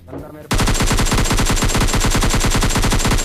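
Rapid automatic gunfire from a weapon in the mobile shooter PUBG Mobile Lite, loud and steady bursts of evenly spaced shots firing continuously after a brief quieter lead-in.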